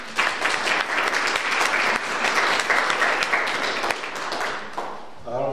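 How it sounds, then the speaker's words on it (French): A church congregation applauding at Mass, dense continuous clapping from many people, loud and close, holding steady for several seconds before fading out as a voice begins at the end. "On peut applaudir toutes ces personnes."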